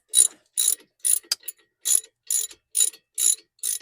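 A ratchet clicks in about nine quick, close bursts with short pauses between them while tightening front brake caliper bolts on a Nissan Quest minivan.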